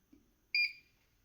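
A single electronic beep, clear and fairly loud, from a Hikvision CCTV DVR powering on through a UPS, held briefly then fading, with near silence before and after.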